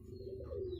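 Racer pigeons of foreign down-phase bloodlines softly coo in a close, continuous low murmur with faint chirps above, with no talk.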